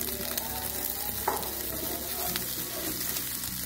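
Water chestnuts fry with spices in a pan, giving a dense continuous sizzle with an occasional spoon scrape, close and steady, and no clear talking.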